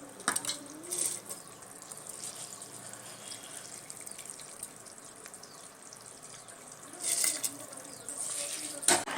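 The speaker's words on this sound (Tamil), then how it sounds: "பாருங்க நல்லா கொதிக்குது." Water boiling in a cooking pot for a rice and lentil dish, a faint steady bubbling hiss with a few louder splashy bursts.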